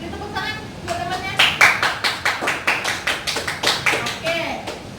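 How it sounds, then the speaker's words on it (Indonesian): A classroom of seventh-grade students claps for a classmate in a rhythmic, fairly close pattern of repeated claps, with children's voices mixed in. "Beri tepuk tangan buat temannya."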